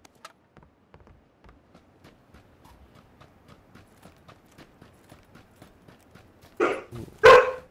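Two large husky dogs give two loud, sharp barks near the end, after a long stretch of faint, rhythmic tapping.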